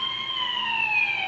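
Toy fire truck siren wailing in a continuous electronic tone that slides slowly downward, fairly loud and near, with no talk over it.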